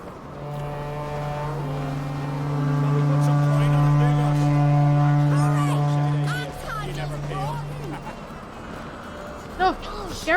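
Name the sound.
horn sounded to start a race, video game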